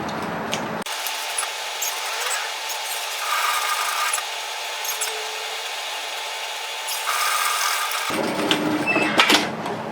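A sewing machine stitches tailored vest waistcoat pieces together, its motor giving a steady close whirring run of about seven seconds, framed by brief handling noise at the start and end.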